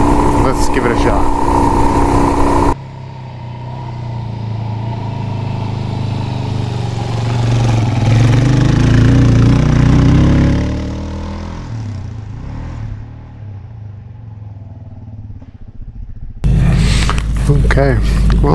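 A motorcycle engine labors and revs up a steep mountain trail in the Colville National Forest, rumbling close and building in strength before easing off; voices are heard at the start and end.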